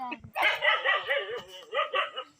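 Dogs close by yelp and bark in a continuous, wavering run of high, whining cries that rise and fall, then fade out.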